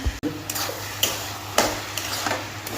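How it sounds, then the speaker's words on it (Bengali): Banana flower curry (mochar ghonto) stirred and fried in a pan for a vegetarian meal, with steady sizzling broken by several sharp scraping stirs roughly every half second, close and fairly loud, no talking. "মোচার ঘন্ট হচ্ছে, আমার হাজবেন্ড মোচার মুড়ি ঘন্ট খাবে।"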